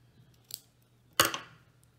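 Scissors snipping through folded felt while sewing a toy chick, two crisp close cuts: a small snip followed by a louder, sharper one with a short rustle after.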